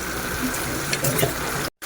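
Water poured into a hot pan of sizzling chicken liver adobo, with a loud steady hiss and crackle and a brief splash partway through, cut off abruptly near the end.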